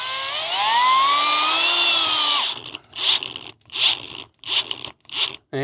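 A cordless drill whirs steadily for a couple of seconds, then bursts on and off in short pulses with gaps of silence between.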